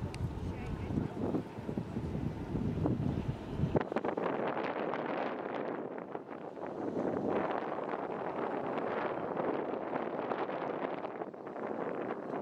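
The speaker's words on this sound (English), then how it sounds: "Windy, innit?" Strong wind blows across an outdoor street in Budapest, buffeting and roaring against the microphone in heavy gusts, first low and boomy, then harsher and broadband, loud and continuous throughout.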